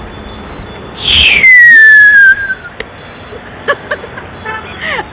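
During an Onam festival gathering in Kayamkulam, a voice imitates a rocket firework, with a sharp burst followed by a long, loud whistle gliding downward and fading, then a few faint clicks.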